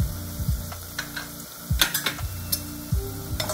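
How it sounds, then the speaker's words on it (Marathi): Hing, turmeric, Kashmiri red chili, red chili powder and garam masala sauté in a pan for a peas and potato curry, a light sizzle with repeated spoon clinks and scrapes over a tonal background. "आता हे सगळे मसाले परतून झालेले आहेत।"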